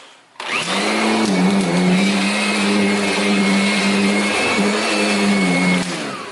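A Kirby upright vacuum cleaner starts abruptly and runs on a wooden floor in a house, with a loud steady motor whine and hum that wavers slightly in pitch and drops off at the end.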